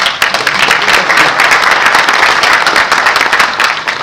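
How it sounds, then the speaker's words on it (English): Dense, steady applause from a large audience, loud and sustained for the whole stretch with no voices standing out. "Don't you think that they all deserve a big round of applause?"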